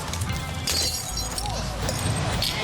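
Glass shattering on a beach during a rescue, a brief bright crash buried in steady roaring surf and wind noise.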